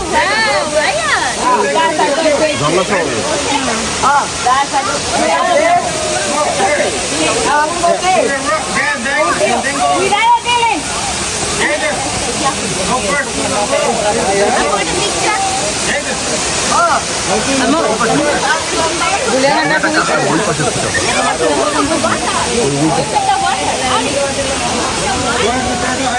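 Rushing water from a waterfall at a nature spot pours steadily and loudly throughout, a broad continuous roar with people talking over it much of the time.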